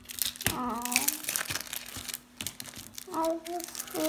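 Crinkly plastic packaging of Pokémon trading cards being unwrapped by hand, with bursts of close crackling and rustling broken by short pauses, while a voice speaks in between.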